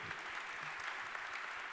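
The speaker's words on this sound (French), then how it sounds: "vous pouvez applaudir Francky Trichet" An audience claps after a pitch at a smart-city awards session, a fairly faint but steady patter of many hands heard from a distance.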